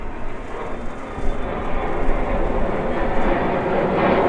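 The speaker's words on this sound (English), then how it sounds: "Excuse the plane noise." A steady, loud airplane roar fills the clip, swelling slightly as it passes overhead in Amarillo, Texas, with a broad rumbling drone and no talking.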